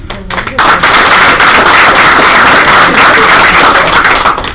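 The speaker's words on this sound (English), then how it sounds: "clap for who you think is the best outfit" A sales meeting audience bursts into loud, dense clapping after a brief quiet moment, sustained applause with cheering filling the room for several seconds.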